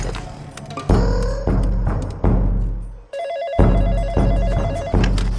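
Telephone ringing with a repeated electronic ring in evenly spaced loud bursts, about six rings in quick succession, close and clear with no talk.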